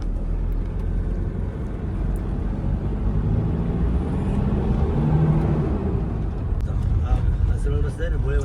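Toyota Innova car driving along a winding road near Phanasgaon and Devgad, a steady close engine and road rumble running throughout, with someone talking over it.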